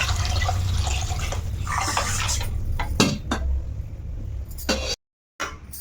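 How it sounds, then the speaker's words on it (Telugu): Water poured into a cooking pot for Telugu-style rasam, a sloshing pour with clinks of the vessel and a few sharp metallic knocks, fairly close and with no speech. "ఇంక నీళ్ళు వేసుకోవాలి ఇందులో."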